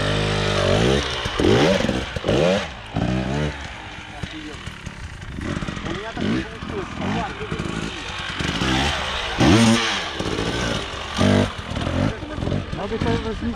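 An enduro motorcycle at an enduro park revs in repeated bursts as it climbs over an obstacle, loud engine surges rising and falling close by, with people talking over it.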